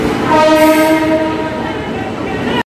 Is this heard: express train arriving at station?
yes